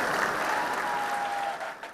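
An audience applauds at a motivational speech, a dense, loud burst of clapping that holds steady and then thins out at the end.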